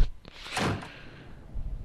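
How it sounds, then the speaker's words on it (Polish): A door in Gray Matter is unlocked with a key and swung open, giving a short muffled clunk followed by a soft thump, heard on its own. "Musisz ciągle otwierać te drzwi tym kluczem."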